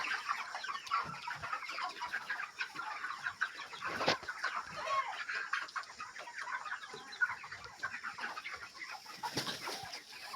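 Chickens, including a black hen, cluck softly and continuously in a flock, with scattered close calls over a low background hum.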